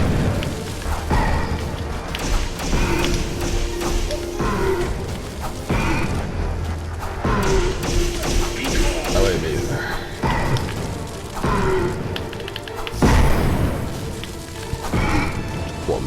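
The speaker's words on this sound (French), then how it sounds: "Ça explose ça explose." Explosions boom repeatedly in the fast first-person roguelike game Ziggurat, dull thuds and crashes layered in dense game music and effects, with someone talking over them throughout.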